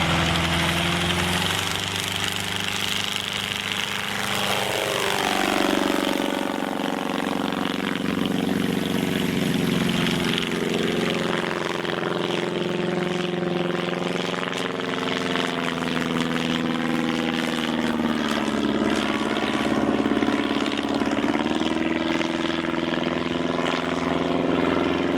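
Engine and propeller of the iconic James Bond gyrocopter, a steady, close droning hum that holds for the whole stretch with a slight rise in pitch partway through, loud and continuous with no talk over it.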